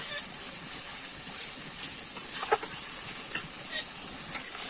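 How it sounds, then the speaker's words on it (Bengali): Spice masala fries with a steady, close sizzle and hiss in the pan for a Bengali rupchanda fish curry. A few brief sharper crackles stand out near the end. "এবারে ভালো করে কিন্তু আমি মশলাটা কষিয়ে নেব"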